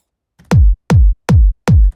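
Four evenly spaced electronic kick drum hits, punchy and short with a deep, tight low-end thump and clean silence between them.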